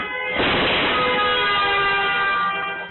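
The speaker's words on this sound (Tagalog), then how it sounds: "Biglang may malakas na kalabog at busina." A loud car horn blares on a highway, one sustained blast lasting a few seconds and starting abruptly, close and dominant with no talking.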